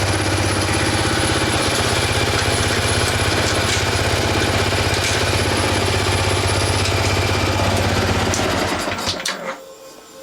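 A Yamaha XSR 125 motorcycle engine runs steadily in gear with a rapid, buzzing mechanical chatter, loud and close for about nine seconds before it abruptly cuts off and fades.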